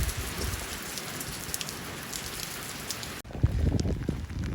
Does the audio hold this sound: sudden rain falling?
yes